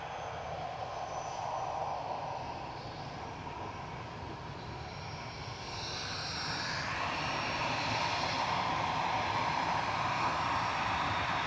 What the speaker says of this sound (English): EasyJet's GEZWD. With flight 701 to Belfast now, A320 Classic lining up